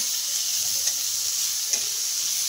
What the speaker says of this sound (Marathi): आणि आता यामध्ये मी कांदा टाकलेला आहे आणि आता हा कांदा परतून घेणार आहे।